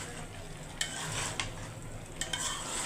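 A spoon stirs fish curry with flat beans, potato, onion leaves, eggplant and tomato frying in a pan, a soft steady sizzle broken by three sharp scraping clinks of utensil against metal.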